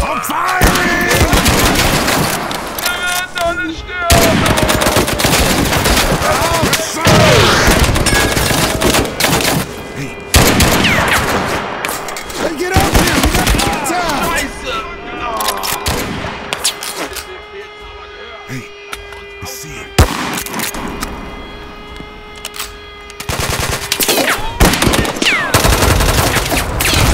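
Sustained gunfire and machine-gun bursts from the war video game Mud and Blood, loud and dense throughout with heavy rattling volleys and occasional booms, mixed with shouted voices.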